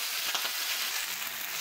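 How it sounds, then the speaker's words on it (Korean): Wet octopus sizzling and popping in a hot frying pan, a steady close crackle with scattered sharp pops throughout. "지금 문어에 물기가 있어가지고 이렇게 팡팡 튀기고 있거든요."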